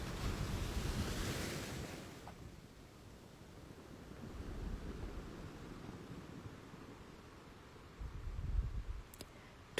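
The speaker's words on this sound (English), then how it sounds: "Waves are constantly going in and out, sometimes with a lot of energy, like during big storms." Ocean surf washing up on a bay beach, a steady broadband rush of breaking waves that swells and recedes, with wind buffeting the microphone and a heavier wave surge near the end.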